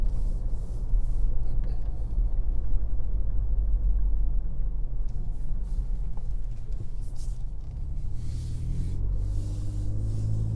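A Ford Ranger Raptor in tow/haul mode climbs a hill, its engine giving a steady low rumble from inside the cab that holds through the clip and lifts slightly near the end.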